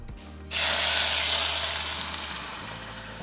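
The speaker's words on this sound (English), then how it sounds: "Going to heat up a little bit of oil. Okay, once it's nice and hot, add the sauce." Sauce poured into hot oil in a saucepan for chile rellenos hits with a sudden loud sizzle after a brief quiet start, then a sustained hissing spatter that slowly fades.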